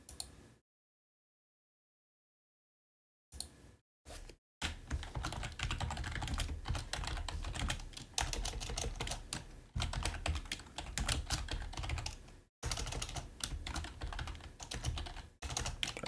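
Rapid clicking keystrokes on a computer keyboard come in dense, close bursts, broken by a few stretches of silence, with no talking.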